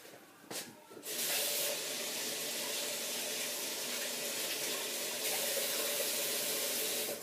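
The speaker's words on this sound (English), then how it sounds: "I'm going to take this basil, just going to give it a quick rinse." Tap water splashes steadily into a sink while fresh basil is rinsed under it: a close, even, hissing rush that starts after a couple of soft knocks and runs on without talk.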